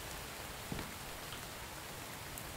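Steady rain falls in the video game The Infected, a soft, even hiss of drops hitting surfaces, faint and continuous with no talking.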